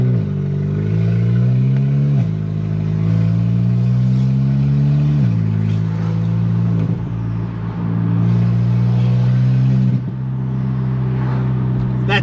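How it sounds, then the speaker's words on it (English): VW MK7 GTI with an aftermarket downpipe, engine droning and revving through several rising pulls with turbo spool, loud and close, gear changes breaking the tone. "that turbo spool sounds sick."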